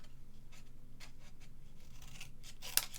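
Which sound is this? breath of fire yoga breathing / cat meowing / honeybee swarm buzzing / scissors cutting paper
scissors cutting paper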